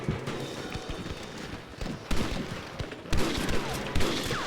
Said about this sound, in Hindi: तो दुश्मन हमारे ऊपर गोली चला रहे हैं